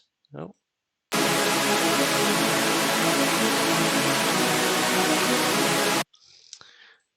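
A layered super saw synth lead for a hardstyle-style melodic dubstep drop blasts as a dense, bright, buzzing wall for about five seconds, with a brief voice just before it and a short murmur after.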